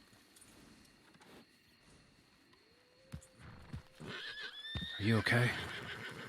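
A horse in a Wild West roleplay game whinnies loudly and near after throwing its rider, the neigh rising in the final seconds over light hoof and rustling noise, with a person speaking briefly in the middle.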